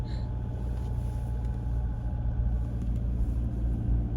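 A car climbs Bainskloof Pass into thick cloud, its engine a steady, close low rumble with road noise that holds even and unbroken throughout.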